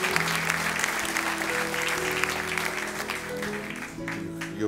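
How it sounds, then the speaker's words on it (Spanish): Church congregation clapping at a Sunday service, a sustained mass of applause over held musical tones, moderately loud and fairly even throughout. "Le damos un aplauso a Él"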